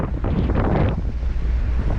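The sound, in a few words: wind and rough sea waves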